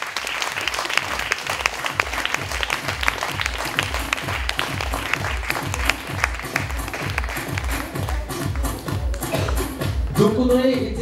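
Applause for a colleague welcomed at a hair salon company evening event fills the room, with bright scattered claps over steady rhythmic music, and a voice enters near the end.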